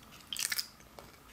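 Crunchy layered lavash börek bitten and chewed close up, a brief burst of several sharp crisp crunches followed by a faint single crackle, with no talking.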